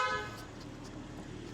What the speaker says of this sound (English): And if I honk the horn.